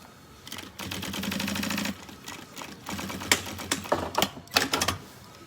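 A sewing machine stitching piping onto a school backpack, rapid mechanical stitching in bursts, with a continuous run followed by shorter starts and stops, close up.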